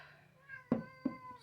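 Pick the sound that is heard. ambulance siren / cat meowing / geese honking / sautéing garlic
cat meowing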